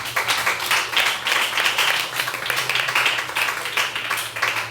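A church congregation claps their hands together during a worship service, a fairly loud, continuous patter of clapping over a low sustained musical hum.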